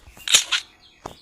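Gunshots in the Granny horror video game: two quick sharp cracks close together, then a softer pop about half a second later, loud and with no talking.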